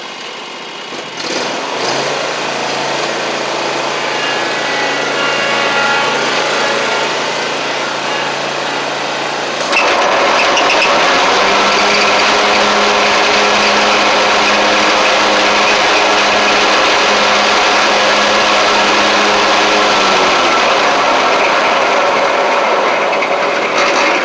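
A John Deere Z920M zero-turn mower runs close by after service, its engine holding a steady loud drone, then stepping up to a higher, harsher pitch partway through and staying there, no talking.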